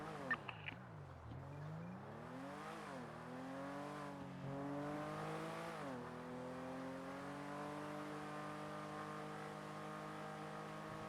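A car in the NoPixel roleplay server of GTA V accelerates through its gears, the simulated engine note rising and falling repeatedly through several upshifts, loud and continuous throughout with no talk.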